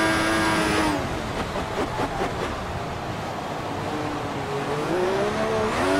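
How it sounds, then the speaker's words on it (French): An F1 race car engine at full throttle through a DRS zone in the F1 2014 video game, a loud, steady high-pitched whine that dips through a gear change and then climbs again, with no voices. "Zone de DRS ici, on va lancer le moteur à fond, plus de 320 km en bout de ligne droite"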